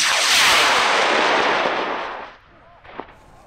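A PML Callisto high-power rocket launches on a J425 motor: a loud, sustained rushing blast that fades over about two seconds, followed by a brief sharp pop.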